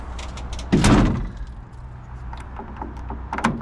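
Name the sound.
closing the engine compartment of a JCB 417 wheel loader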